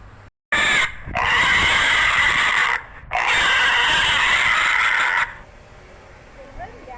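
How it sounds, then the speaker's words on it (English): A pig on a farm gives two long, loud squeals, each lasting about two seconds with a short gap between them, close and clear over a quiet background. "Children, that is a pig."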